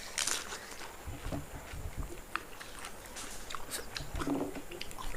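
A person eating fuchka (panipuri), with close, wet biting and chewing sounds in bursts over a faint background bustle.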